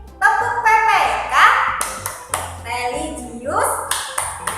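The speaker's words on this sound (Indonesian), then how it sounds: "Anak-anak boleh mengikuti tepuk dari Bunda ya. Tepuknya seperti ini." A teacher leads the PPK character-education clap chant for sixth-grade pupils: short, sharp hand claps land in a steady rhythm between her spoken chant words, close to the microphone.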